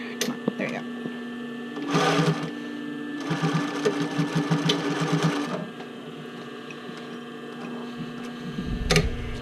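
A domestic sewing machine finishes a stitch on a bra cup overlay, running in two short whirring bursts near the mic with a steady hum between them.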